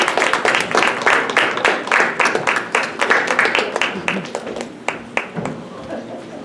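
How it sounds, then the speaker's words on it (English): Audience applause at an award ceremony, a burst of clapping that thins into scattered individual claps and fades toward the end, with voices mixed in. "Round of applause for Mr."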